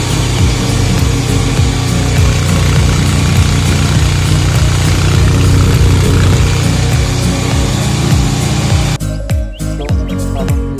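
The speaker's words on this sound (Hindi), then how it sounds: "तो फाइनली गाइस बाइक स्टार्ट हो चुकी है।" Just after starting, a motorbike that sat unused for a month idles loudly and steadily up close, then the sound drops sharply near the end as it cuts out or moves off. Birds chirp in the background.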